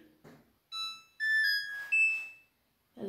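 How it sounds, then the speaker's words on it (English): A Samsung Series 6 EcoBubble washer dryer chimes as it powers on: a short rising sequence of clear electronic tones, close and clean, framed by faint handling noises before and after. "turn on the machine."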